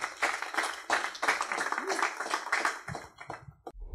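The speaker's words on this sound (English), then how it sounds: "A round of applause." Audience applause at a post-quantum cryptography talk, a dense steady patter of many hands clapping for about three seconds, then thinning out into a few scattered claps.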